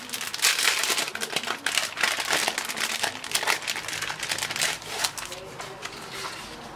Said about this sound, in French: j'ai ces feuilles de papier embossées, donc de plusieurs couleurs comme vous le voyez. Donc c'est embossé et en même temps c'est brillant.